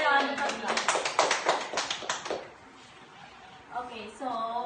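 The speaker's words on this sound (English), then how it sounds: "So, give her a round of applause." Brief burst of clapping from a small classroom group cheering a math game winner, about two seconds of scattered hand claps that fade out, followed by a voice.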